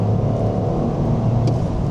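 A 2025 Toyota GR Corolla engine pulls hard between 3000 and 6000 rpm, a loud, close, steady low drone with a brief higher whir near the end.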